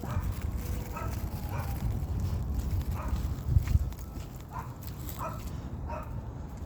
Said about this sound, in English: the dog's already barking.